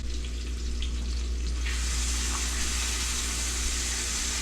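Chopped leeks frying in a pan, a constant loud sizzle with a broad hiss that brightens midway and continues without pause.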